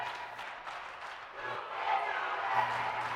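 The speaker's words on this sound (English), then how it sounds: "And the crowd, the faithful over there, saying you can't do that" A basketball crowd at a girls' regional playoff game voices a sustained, swelling murmur of disapproval over a call, a broad roar of many voices that grows louder toward the end with no single speaker standing out.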